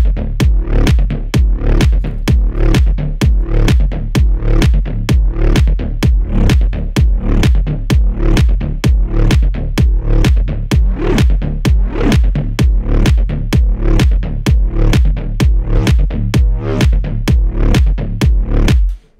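Synth bass patch built in FL Studio, layering two integrated sounds: a loud, steady pulsing bass line of repeated plucky notes with bright harmonics, playing alone for about nineteen seconds before cutting off.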